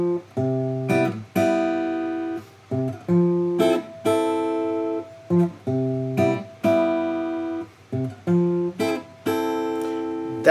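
Guitar strums the verse chords of a song in a steady rhythm, each bar closing with a single bass note on the last beat before the next chord, played clearly and close with short gaps between strums and no speech.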